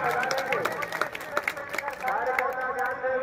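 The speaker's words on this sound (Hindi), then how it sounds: "एक बार फिर ताली बजाकर अमर सिंह का सम्मान किया जा रहा है।" Applause honouring Amar Singh at a gathering: a crowd claps steadily for about three seconds, close and moderately loud, with voices murmuring beneath and tonal sounds running through it.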